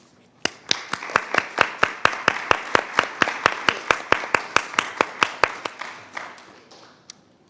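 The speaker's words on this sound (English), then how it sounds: "I would like to invite you to join me in a round of applause for our speakers and organizers." A round of applause at a panel discussion: a steady run of about twenty crisp, evenly spaced claps, close and clear, that trail off into quiet.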